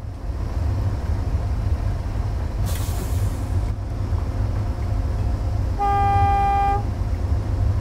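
A train horn sounds in Train Simulator 2022 on the Settle–Carlisle line, one steady tonal blast of about a second over a constant low rumble of the moving train, with no talking.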